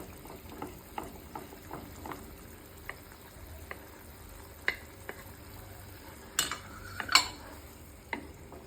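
Fish frying in a pan with onion and cumin paste for a fish and potato curry, a faint steady sizzle broken by scattered stirring clicks and utensil knocks against the pan, with no talk.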